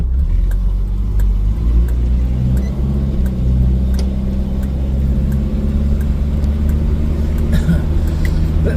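A 1978 Datsun B210 car drives along, its engine rumbling steadily and loud close by, with occasional revving and clicks over the continuous drone.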